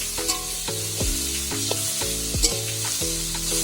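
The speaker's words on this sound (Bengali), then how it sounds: "বেশি করে ভেজে নেব" Vegetables fry with turmeric in a hot pan, a steady sizzle broken by repeated scraping stirs of a utensil against the metal at a regular rhythm. A bright tonal hum underneath suggests background music, and no one speaks.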